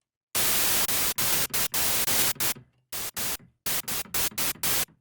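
White noise from a 3x Osc synthesizer plugin plays as a series of loud, abrupt full-band hiss bursts, each key press starting and cutting off sharply, with brief silent gaps between them and no voice.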